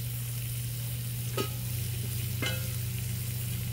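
Steak bites searing on a hot Blackstone griddle, a constant close sizzle over a low steady hum, broken by two brief scraping stirs from a spatula.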